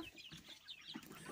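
Young chicks peep and cluck softly in quick, high, overlapping calls, faint and close together throughout.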